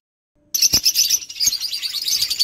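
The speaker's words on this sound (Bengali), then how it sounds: "আগে পাখিগুলো দেখে নিন" Pet budgies, including parblue opaline birds kept for sale, burst into dense, loud chirping at close range. The chatter stays busy and continuous after a brief silence at the start.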